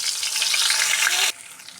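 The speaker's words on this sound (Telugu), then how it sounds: "లో ఫ్లేమ్లో వీటిని ఫ్రై చేసుకోవాలి" Stuffed bitter gourd fries in oil over a low flame with a dense, loud, hissing sizzle up close. It drops abruptly to a faint background hiss after about a second.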